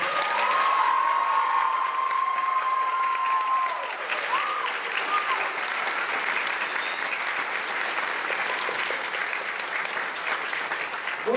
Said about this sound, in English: One more round of applause for our freshmen.